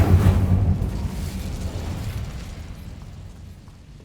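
A fiery incendiary blast goes off in a video game, beginning as a loud, dense rumble that slowly fades into a long, low roar. No one talks.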